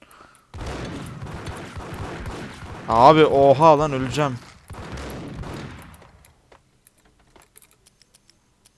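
Bursts of rapid gunfire crackle in the video game Max Payne while someone talks excitedly in Turkish over them, the shots loud and clustered in the middle.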